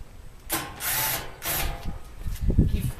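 Power drill backing out the top screws on the panel of a used Bosch WTVC5330US 500 Series vented steam dryer, several short whirring bursts close up with faint handling noise between them.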